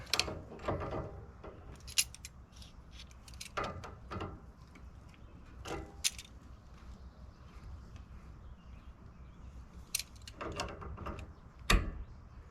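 Vice grips tightening a boat part, giving a series of close metallic clicks, ratcheting and clanks at irregular intervals, with faint handling noise between them in a quiet space.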